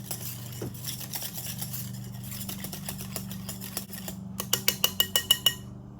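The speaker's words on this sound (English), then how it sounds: "Going to give it a quick whisk until everything is well blended" A whisk clinks quickly against a bowl while blending wet blueberry muffin batter, a steady run of light scraping taps that ends in a few sharper, louder clacks, with a low hum underneath.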